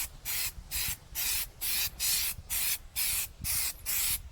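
A spray can lays light coats of filler primer on a wheel rim in short repeated bursts of hissing spray, about nine evenly spaced pulses close to the listener, with no voices.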